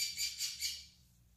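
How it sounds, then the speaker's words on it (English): Three quick harsh squawks from a pet bird indoors sound loud and close, then fade into quiet room tone. "Sorry if you can hear the bird."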